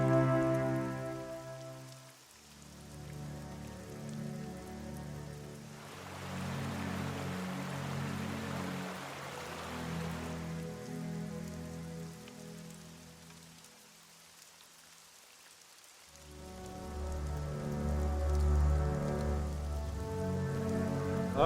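Steady rain falls on a surface outdoors in the Pyrenees, a continuous close patter of drops with soft tonal background music swelling and fading beneath it.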